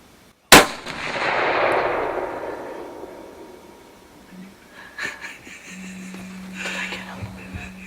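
A single loud rifle shot fired at a deer during a youth morning hunt, a sharp crack with a long rolling echo fading away, followed by faint rustling and quiet voices.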